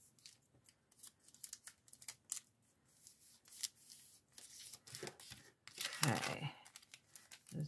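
Fabric tab binding being folded by hand, soft rustling and crinkling handling noises in short irregular bursts, fairly quiet and close, with a person talking at times.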